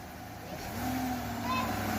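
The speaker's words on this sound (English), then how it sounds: "That's a cold start and a long rev." A Chevrolet Silverado (2019–2021) with a cold air intake fitted starts cold and then holds a long, rising rev, a steady mid-pitched engine drone that swells and stays loud, with voices faintly in the background.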